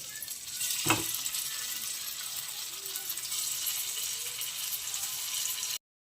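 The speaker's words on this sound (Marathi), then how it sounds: "सगळं फ्राय करून घ्या आलू वडी स्पेशल" Pieces of crispy aloo vadi deep-frying in hot oil, a steady bright sizzle throughout with a brief louder burst near the start, no voices.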